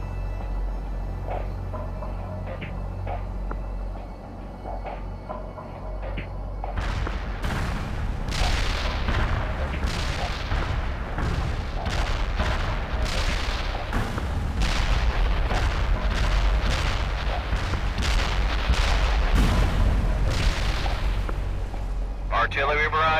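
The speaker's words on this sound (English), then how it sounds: "Artillery barrage inbound." An artillery barrage in the video game World in Conflict sets off rapid, repeated heavy booms and blasts over a rumbling battle bed, growing dense after a quieter opening.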